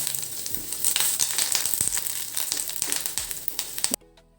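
Curry leaves hit hot oil in a pan while potato aloo chooda is being made, giving a loud, crackling sizzle with sharp pops that goes on for about four seconds, then cuts off abruptly.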